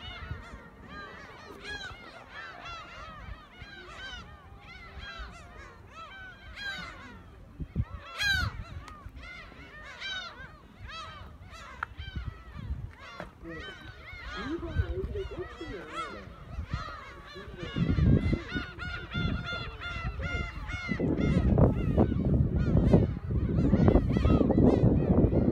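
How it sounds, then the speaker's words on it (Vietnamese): Dozens of seagulls crowd the air over the sea near Oido, with overlapping harsh, squawking calls that continue without pause, loud and close, against a swelling background of wind and engine rumble toward the end. "Hải âu biển rất nhiều."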